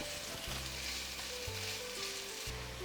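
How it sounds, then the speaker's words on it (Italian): Onion browning in a pan with anchovy fillets melted into the oil, a steady close sizzle and hiss throughout, with a low electrical hum beneath and no talking. "inseriamo la cipolla e la facciamo rosolare fino a quando appassisce"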